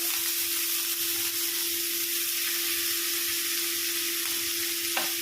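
Finely chopped kodijuttu greens fry with peanuts and fried onion in a pan, a soft continuous sizzle and hiss over a steady low hum, with faint stirring.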